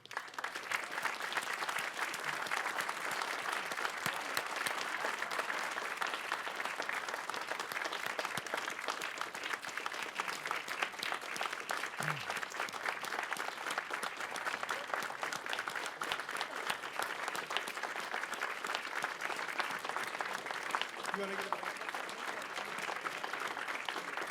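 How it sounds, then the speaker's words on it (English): An awards dinner audience claps in a sustained, even round of applause that lasts throughout, heard from a moderate distance with no talk over it. "Please join me in giving Martin a round of applause as he makes his way to the podium."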